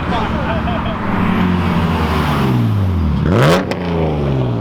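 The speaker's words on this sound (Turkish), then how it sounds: "Düz olarak şeritte zaten basıyorlar, arabalar ara hızlanmalarını yapıyor." Cars accelerate hard along a straight lane on an Istanbul street race course, engines revving and rising in pitch, with one car sweeping past close by near the end; voices talk over the engine noise.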